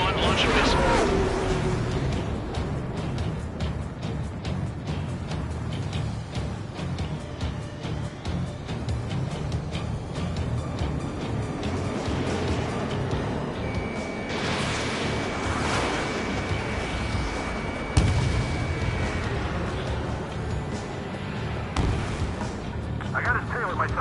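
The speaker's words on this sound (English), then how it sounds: "Mage 1, launch a missile." Missile launches and explosions from the air-combat game Ace Combat 7, a continuous roaring wash of jet noise with repeated whooshes and bursts throughout, with radio voices talking over it.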